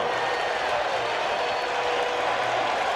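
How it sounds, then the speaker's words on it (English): Crowd noise fills a baseball stadium during Game 6 of the 1986 World Series between the Boston Red Sox and New York Mets, a steady, dense roar of cheering and applause with no clear breaks. "This crowd has reason to cheer."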